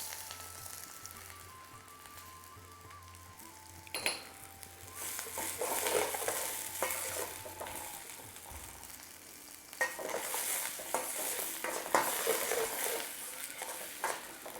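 Green chilli, garlic and diced green pepper frying with onion in a pan for a chicken balti, giving a steady close sizzle with stirring scrapes and clatter that grows louder midway.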